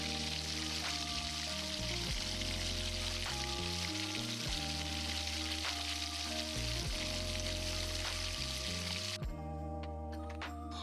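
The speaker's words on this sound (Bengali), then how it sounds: "এই রকম লাল লাল করে ভাজা হয়ে যাওয়ার পর তাতে দিয়ে দিতে হবে আদা কুচি" Chopped ginger and chili sizzle steadily in hot oil while banana flower chop is being made, a continuous close frying hiss under background music.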